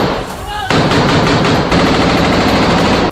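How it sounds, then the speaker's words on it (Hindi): Dense, continuous automatic gunfire from Israeli soldiers inside Jabalia camp rattles loudly and close with little break, heavy bursts overlapping throughout. "वीडियो में इजराइल के सैनिक जबालिया कैंप के अंदर फायरिंग करते दिखे।"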